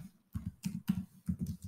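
A handful of soft, separate keystrokes on a computer keyboard as a command is entered in a terminal, quiet and close with short gaps between presses.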